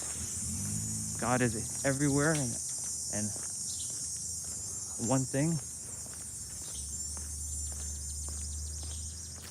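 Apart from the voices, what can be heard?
cicadas buzzing in summer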